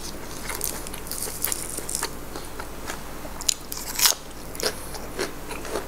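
Crunchy chewing and biting of a spicy field snail salad eaten with dried-wood curry, close and crisp, with irregular cracks and crunches and no talking.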